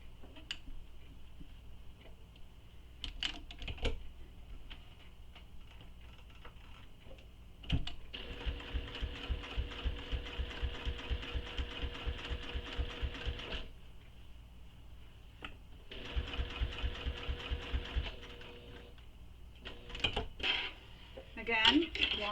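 A sewing machine sews a second row of stitching on a fabric tote bag in two bursts of rapid, even ticking, with quieter clicks and handling noises before and between them.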